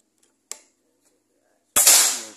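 A Predator Mahameru PCP air rifle fires during an accuracy test, a sharp, loud, close crack near the end, after a faint click a moment earlier and otherwise quiet surroundings.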